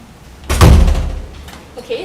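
A residence hall door at North Hill Hall, NTU, swung open after a key fob tap, giving one loud close thud and rattle that fades over a second, with a voice speaking nearby.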